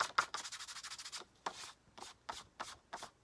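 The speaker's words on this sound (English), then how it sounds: "we will take our powder and rub it off" Powder is rubbed off a stamped paper card in quick, soft, dry strokes, first a rapid run of even brushes, then slower separate swipes, close and quiet with no talk.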